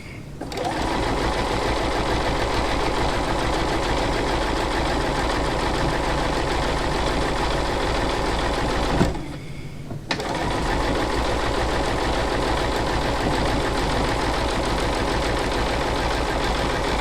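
A home sewing machine stitches a quilt block in a loud, steady, close mechanical hum, stopping for about a second partway through before running on continuously.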